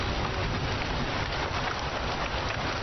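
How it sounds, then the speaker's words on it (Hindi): Heavy rain pours in a steady, dense hiss with no breaks, a loud, even wash of falling water and some wind, heard on its own without any talk. "बारिश तेज है"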